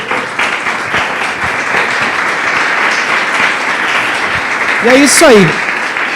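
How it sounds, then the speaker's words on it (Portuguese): A congregation at a church service claps loudly and steadily in a dense, continuous wash of applause, with a voice speaking briefly over it near the end. "Louve a Ele com suas palmas,"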